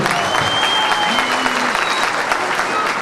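Audience applause at a municipal ceremony in Didim, Turkey, welcoming the mayor to the podium: dense, steady clapping from a crowd that fills the whole stretch at an even level, with a brief tonal whistle or voice cutting through.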